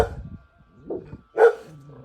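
Pet dogs in a backyard by a greenhouse build site give a few sharp barks separated by short pauses, close and moderately loud, with no talk.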